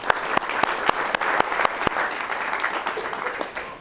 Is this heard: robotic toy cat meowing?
no